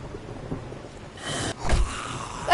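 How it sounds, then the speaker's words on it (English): Rain and thunder in the video game 7 Days to Die on PS5: a soft hiss swells into a rumbling thunder crack and steady rainfall, with no talk over it. "Oh, it's raining."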